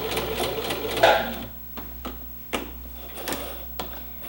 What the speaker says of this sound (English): And then I'm gonna back stitch.